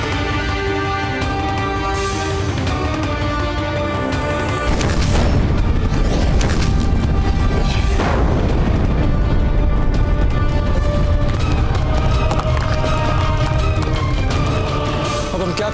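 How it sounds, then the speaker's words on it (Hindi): Mughal cannons bombarding a fort in a Maharana Pratap battle scene, deep booms and explosions thundering continuously beneath a dense, loud dramatic music score, growing heavier midway. "ये मुगल अपनी तोपों से हम पर गोले बरसाए जा रहे हैं"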